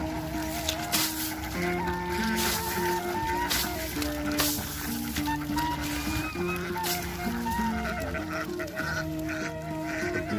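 A flock of ducks foraging for rice grains in a paddy field, with a dense, continuous chorus of overlapping quacks and honks from many birds close by.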